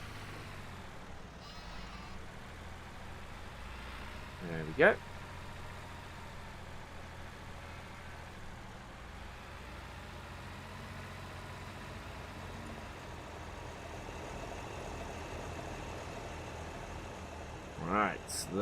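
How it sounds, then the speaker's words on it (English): A tractor engine runs at a steady idle in Farming Simulator on the BallinCraig Estate 2017 map, a low, even hum under occasional speech with a couple of brief knocks. "And as a workhorse, it's a cracking little tractor."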